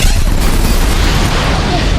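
A loud movie explosion booms continuously, a dense roaring blast that fills the whole moment at high level with no pause.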